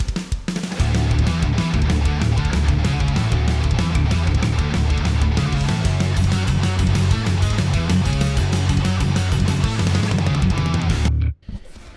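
Drum library demo mix of drums and guitars, a dense, loud full-band passage with a punchy snare driving straight through before cutting off abruptly near the end.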